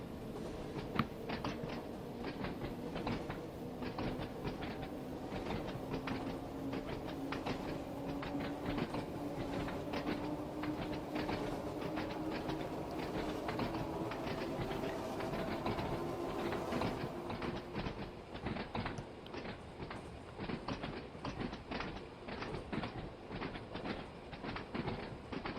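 Class 483 electric train on the Isle of Wight line in Train Sim World 2, running steadily with continuous rail rumble and a rapid clickety-clack of wheels over joints, heard alone with no talking.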